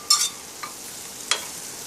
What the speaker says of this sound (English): The chanterelle comes straight into here. Coat them with the bacon fat and the butter.